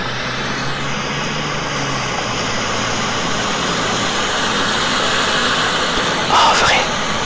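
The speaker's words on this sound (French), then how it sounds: "Ça, c'est bruit urbain." Steady urban street noise from passing cars fills the scene as a continuous broadband wash, with a low engine drone fading early on and a brief louder swell near the end.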